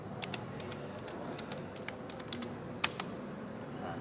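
Keys clatter on a computer keyboard as the ipconfig command is typed in a command prompt, producing quiet, irregular close-up clicks with one sharper keystroke near the end.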